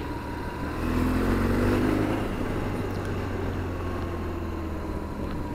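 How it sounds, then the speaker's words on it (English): A car drives around a corner in the middle of a muddy road, heard from a BMW R1200GSA motorcycle as a steady engine drone with wind noise that swells slightly and then evens out. "There's a car coming around the corner in the middle of the road."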